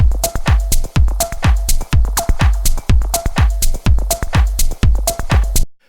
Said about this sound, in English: So it's quite a basic drum loop.